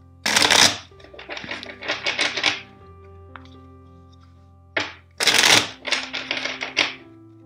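A deck of tarot cards being shuffled at close range for a reading: two bursts of quick riffling flutters with soft taps, separated by a quiet pause, no talking.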